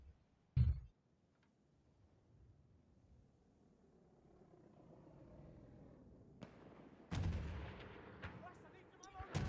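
In Battlefield, a tank takes a hit from a sharp, booming blast near the start, then rumbling engine noise builds before further heavy explosive impacts in the closing seconds.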